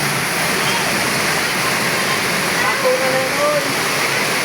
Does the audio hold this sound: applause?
no